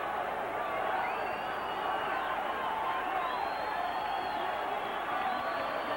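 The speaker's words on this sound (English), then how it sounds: "And the crowd starting to rise to its feet." A crowd at a 1991 professional boxing match between James Toney and Mike McCallum roars as it rises to its feet: a loud, sustained, swelling cheer with scattered whoops, carrying on under a commentator's voice.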